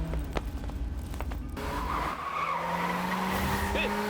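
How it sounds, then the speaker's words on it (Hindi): A car speeds away with a loud tire squeal and skidding in an action film scene, the engine note rising and sustained to the end, with voices briefly audible at the start. "तू जल्दी गाड़ी भगा।"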